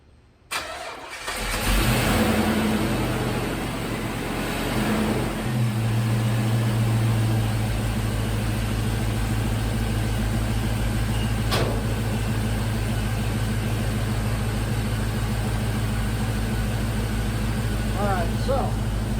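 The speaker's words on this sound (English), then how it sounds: "So first I'm going to start the truck." A 1956 Chevy pickup truck engine cranks and catches, revs up strongly, then settles into a loud, steady rumble that carries on close by.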